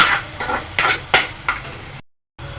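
Tomatoes sautéing in a pan, with a steady sizzle and five rhythmic spatula scrapes and knocks against the metal, then a short silent gap before the frying hiss returns.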